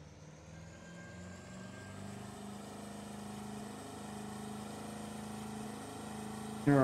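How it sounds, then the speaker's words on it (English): A boat's engine from the fishing video game Russian Fishing 4 drones steadily at a low, even pitch throughout, with a brief louder clunk right at the end and no voices. "the engine noise is probably the issue here"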